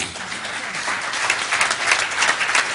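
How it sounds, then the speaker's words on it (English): An audience at an ALS honoree event applauds warmly, a continuous, moderately loud wash of many hands clapping that swells slightly over a few seconds with no talk on top. "So give yourself a round of applause."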